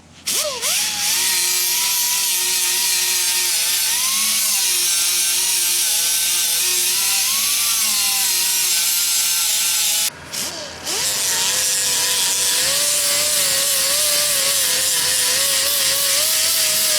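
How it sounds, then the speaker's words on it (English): An angle grinder grinds down the high side of a weld on a shortened driveshaft in a home shop, a loud continuous whine with pitch dips as the disc bites, briefly cut off and restarted partway through. "grinder, grind that high side down"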